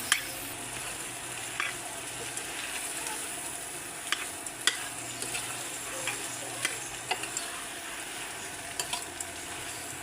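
Pork sisig sizzles and fries steadily in a pan, with occasional clicking scrapes and taps as it is stirred.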